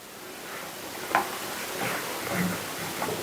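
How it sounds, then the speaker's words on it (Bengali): A leaf is toasted with a little oil on a dry tawa, giving a soft, continuous low sizzle with a few light scraping and stirring touches close by. "এবার আমি পাতাটাকে হালকা করে শুকনো তাওয়াতে একটু তেল দিয়ে সেকে নেবো"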